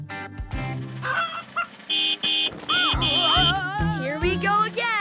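A cartoon goose honks repeatedly in loud, nasal, tooting blasts amid cartoon sound effects and whooshing slides, with the honks dominating the scene.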